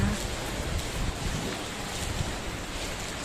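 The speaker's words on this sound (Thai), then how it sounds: "บรรยากาศยามเช้าค่ะ ที่มีฝนตกนะคะ" Steady rush of morning rain and blustery sea wind in Rayong, Thailand, a constant roar with no distinct individual sounds standing out.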